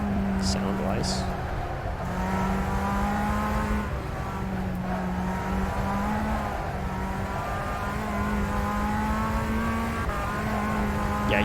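A Tatuus formula race car engine in the video game rFactor 2 drones steadily, pitch rising and dipping with gear changes, while a voice talks over it.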